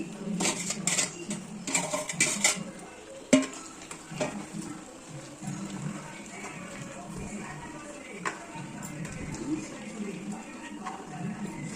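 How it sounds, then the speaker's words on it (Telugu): Fried chicken being stirred into a spice masala in a pan while making chicken pickle, with clattering scrapes and metallic knocks of a spoon, a loud clink early on, and faint background sounds throughout. "ఇది వేగాక మనం వేయించుకున్న చికెన్ని ఇందులో వేసి కలుపుకోవాలి"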